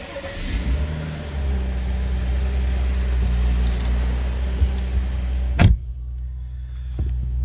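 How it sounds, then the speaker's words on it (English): A 2015 BMW 535i M Sport F10 saloon petrol engine starting, a brief starter whir catching into a steady idle rumble close by, with a sharp click as things settle near the end. "And we'll just start the engine."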